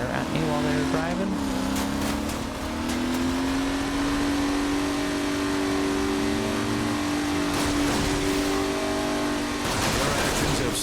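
A car engine in the video game Crackdown 2 holds a steady, loud droning tone that shifts pitch as it revs, running continuously under talk.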